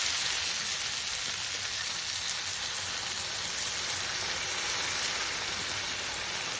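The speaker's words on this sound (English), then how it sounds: "What we're going to go ahead and do now is put in beans." Beans hitting a hot pan, producing a loud, dense, continuous sizzle that crackles evenly throughout, close by and with no talking.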